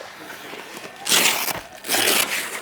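A zipper is drawn open along the fabric cover of a 270 XT Max vehicle awning on a Dodge RAM 2500 canopy, two quick raspy pulls close by.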